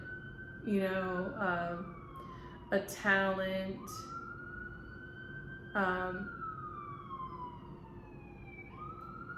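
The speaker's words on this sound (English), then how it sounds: "sorry for the sirens." A wailing emergency siren rises and falls in the background while a person talks intermittently in the foreground.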